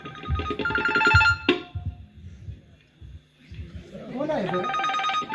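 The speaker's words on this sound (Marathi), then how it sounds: "बघा, कुणाचा तरी फोन आला वाटतो" A phone rings with a bright repeating electronic tone, close by, heard in bursts with a pause in between, while someone talks over it in the fields.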